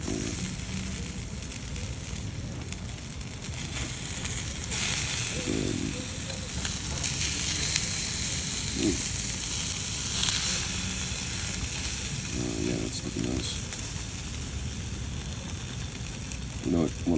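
Korean kalbi beef sizzles steadily on a grill alongside garlic, a constant bright hiss with occasional scraping and clicks, while someone talks over it.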